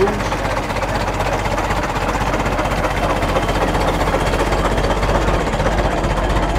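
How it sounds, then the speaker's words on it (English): Vintage Studebaker car engine rumbling steadily as it drives past at a vintage air show, loud and continuous with a dense mechanical clatter and no pause. "we have a Studebaker just coming past me now"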